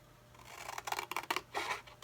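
Paper scissors snip through card stock up to a score line, a quick run of short crisp cuts close by with small pauses between them, nothing else heard.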